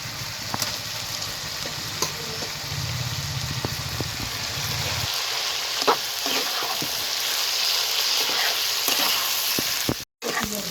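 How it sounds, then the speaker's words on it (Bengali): Bottle gourd and shrimp fry in a pan with salt, giving a continuous close crackling sizzle. Occasional stirring scrapes and clinks sound over it, with a low rumble early on that fades partway through. "এবার এটা সুন্দর মতো ভাজে নেব নুন দিয়ে"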